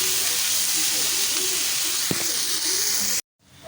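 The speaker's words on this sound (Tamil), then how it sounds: "இந்த வெங்காயம் தக்காளி எல்லாமே நல்லா வதங்கி வரட்டும்" Onion and tomato sauté in a pan with a loud, continuous hiss and sizzle that holds for about three seconds, then cuts off abruptly.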